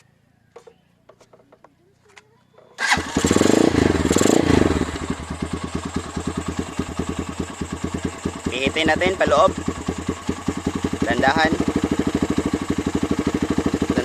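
A motorcycle with a 28 mm carburetor starts after a quiet moment, revs loudly, then settles into a steady idle with brief rises while its air setting is adjusted, under a man's speech.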